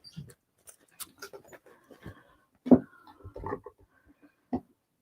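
A dog close by makes short breathy huffs and sniffs in scattered bursts against a quiet indoor background, with no clear run of barks.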